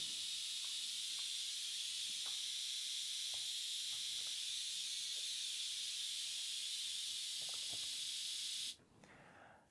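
Noise pad from an Elektron Model:Cycles synthesizer, a steady bright hiss held for about nine seconds with faint clicks beneath, then cutting off abruptly to quiet.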